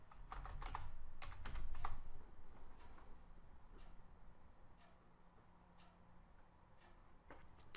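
Keystrokes on a computer keyboard while entering a search term into a WordPress plugin search, a quick burst of close, clicky taps early on, then sparse single clicks over a quiet room.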